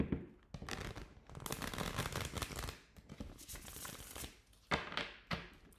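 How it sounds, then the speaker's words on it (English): Tarot cards shuffled by hand during a reading, a run of papery riffling and crinkling bursts close to the microphone with brief pauses between, no talk. "One more shuffle, Joseph, one more shuffle."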